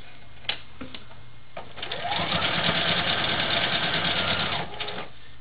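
A sewing machine stitching over a quilt, starting with a few short clicks and bursts before running in a steady, close, continuous whir for about three seconds and then stopping, with no talk over it.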